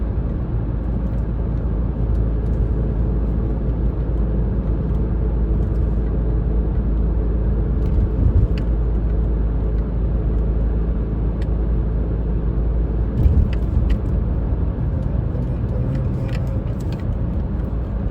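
Cars driving along a snowy road in Canada make a steady, loud low rumble of traffic that continues without a break, with faint clicks above it and no talk.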